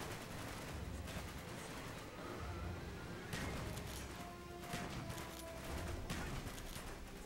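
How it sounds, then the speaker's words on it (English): Shotgun blasts from the video game Call of Duty: Black Ops go off in a dense run of repeated shots and crashes over a continuous battle din, with no pause across the stretch. "shooting guys from this far away is a little bit tough with a shotgun"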